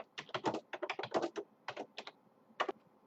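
Typing on a computer keyboard, close and fairly quiet: bursts of quick key clicks with short pauses in between, with no talk.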